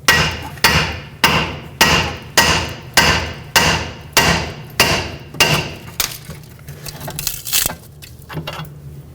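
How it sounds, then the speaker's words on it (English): A hammer pounds on a Toyota Camry front control arm to free the ball joint from the knuckle, nine loud, evenly spaced metallic strikes, then quieter clinks and handling noises. "let's get a hammer, hold up on the knuckle and down on the control arm"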